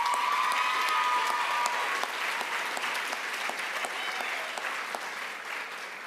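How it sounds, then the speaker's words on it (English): A convocation crowd at OCCC gives a steady round of applause, dense, even clapping from many hands that holds at a constant level throughout and fades only slightly toward the end. "Another round of applause."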